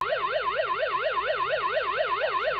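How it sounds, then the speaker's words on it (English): An Aqara smart home hub sounds its alarm, a loud, close siren-like tone sweeping rapidly up and down in even repeated cycles before cutting off abruptly. "it'll actually trigger a different alarm sound on your Aqara hub"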